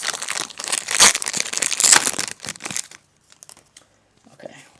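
Foil wrapper of a Pokémon Dragons Exalted booster pack crinkling and tearing open up close, loud rustling bursts for about three seconds before trailing off into quiet, faint handling sounds.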